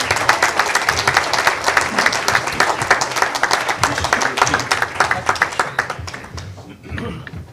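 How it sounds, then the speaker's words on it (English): A meeting audience gives a hearty round of applause for Jody Grant, founding chairman and CEO of Klyde Warren Park: dense, close clapping that holds steady, then thins and fades out near the end. "give him a good round of applause"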